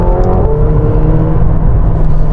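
McLaren 720S supercar driving in sport mode with manual shifting, a steady loud engine drone with rising harmonic tones under acceleration, heard from inside the cabin with no talking.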